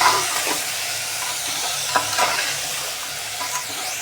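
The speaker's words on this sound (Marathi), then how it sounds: "आपण त्याच्यामध्ये बटाटा, फ्लॉवर, शेंगदाणे हे पण घालून घेऊया. ते पण छान असं तेलावर परतवून घ्यायचं." Potato, cauliflower and peanuts fry in oil for masale bhat while a spoon stirs them, giving a close, steady sizzling hiss broken by soft scraping and occasional clinks against the pan, with no voices.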